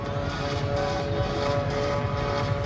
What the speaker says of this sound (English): We're watching this airplane up here.